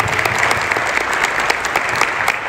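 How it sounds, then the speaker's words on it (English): Audience at a Rhode Island civic event applauds state representative Lauren Carson, a dense, loud, steady run of clapping with no talk over it. "yes, please applaud her, absolutely."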